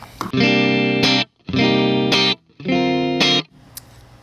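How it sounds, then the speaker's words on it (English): Clean electric guitar through a Boss RV-5 pedal on room reverb with the effect level at zero: three loud strummed chords ringing about a second each, cut off dry into brief silences, then a faint tick. "Here is the room reverb with a level all the way down."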